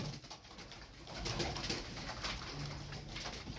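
Pigeons cooing softly in a group, low murmuring calls overlapping continuously with a busy, rustling background.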